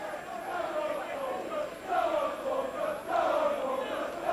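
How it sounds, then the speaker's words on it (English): A stadium crowd at a Falkirk versus Hamilton Accies football match in 1990/91 gives a steady, distant roar that swells twice into louder cheering surges. No one speaks close by. "A good Falkirk crowd in the stadium this afternoon."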